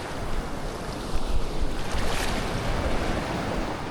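Continuous rushing surf of sea waves, close and fairly loud, with a gusty, windy wash and no voices.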